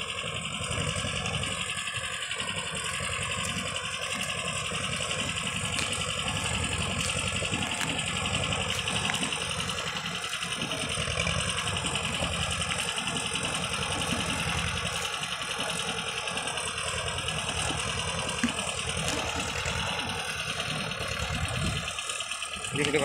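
A small Escort 335 tractor sits idling with its engine running, a steady low rumble and throbbing knock that continues evenly throughout, close and moderately loud with no talk over it.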